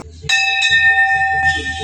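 Brass temple bells at the Chitai Golu Devta temple strike close and loud, their bright sustained tones ringing over one another, with fresh strikes layered on top and faint crowd murmur underneath.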